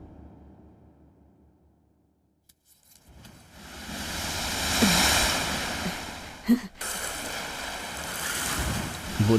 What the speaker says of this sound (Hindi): वो लहरों की आवाज सुनाई दे रही है ना स्वीटी?